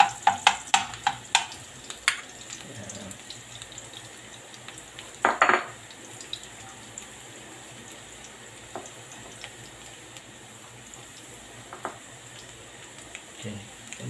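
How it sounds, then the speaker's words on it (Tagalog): Chopped garlic frying in hot cooking oil for pansit bato gives a steady, fairly quiet sizzle throughout, with a burst of utensil clatter at the start and a few scattered clinks and scrapes of stirring later. "Hintayin po natin uminit ulit yung mantika. Saka natin ilagay yung sunod na step. Guys, lagay na natin ang bawang."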